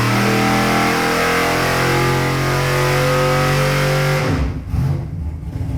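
A 570-horsepower big-block V8 with aluminum heads and a solid roller cam, fitted in a C10 squarebody truck, revs and holds a loud, steady high-rpm roar up close, then drops off into rough, lumpy idle burbles.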